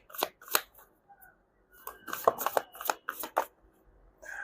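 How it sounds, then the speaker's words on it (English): Tarot cards being shuffled by hand close up, with quick crisp riffles and slaps coming in irregular bursts and short pauses between them. "you saw me shuffle, right?"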